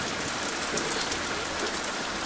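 Heavy rain pours down steadily, a dense hiss of drops close by with no break, loud and continuous throughout.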